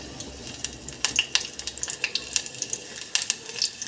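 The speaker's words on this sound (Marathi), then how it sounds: "याच प्रोसेसवर आपण एक कांदा टाकून पाहूया चांगलं तेल तपलं का नाही बघा" An onion piece is dropped into hot oil while stuffed brinjal curry is being prepared, producing a crackly, spitting sizzle of rapid irregular pops, close and fairly quiet, with no voice.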